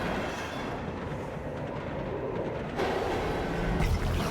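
Train interior in the Zenless Zone Zero video game: a continuous rumble of rolling wheels and carriage noise, steady and fairly loud, growing heavier toward the end.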